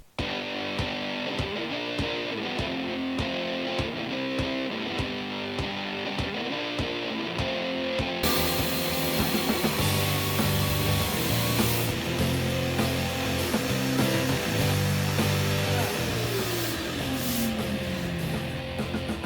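A loud, steady Mudhog power sander with 80-grit paper grinds continuously against a Chevrolet C10 truck's metal bedside, its buzzing drone rising slightly and shifting pitch partway through, with no voices.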